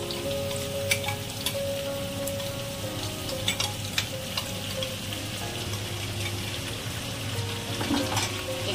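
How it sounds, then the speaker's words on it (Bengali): Potatoes frying with spices in a pan for aloo dum, giving a steady, close crackling sizzle with scattered louder pops and faint tonal sounds underneath. "ওর মধ্যে মশলা দিল, এবার সুন্দর সুন্দর আলু, টেস্টি টেস্টি আলু হবে।"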